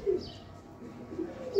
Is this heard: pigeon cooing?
yes